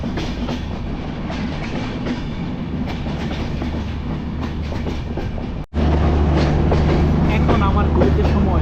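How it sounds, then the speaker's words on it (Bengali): A Sagardari Express passenger train pulls into Rajshahi railway station in Bangladesh at night, a loud, continuous rolling rumble with rattling carriages that drops out for a moment, then returns heavier and deeper. "আমাদের সাগরদাড়ি এক্সপ্রেস ঢুকতেছে রাজশাহী রেলওয়ে স্টেশনে"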